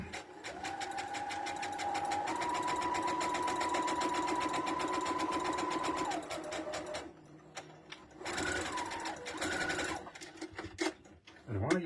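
A sewing machine sews a bag in a close, steady mechanical whir that holds at one pitch for several seconds, then stops and restarts in shorter runs while people talk.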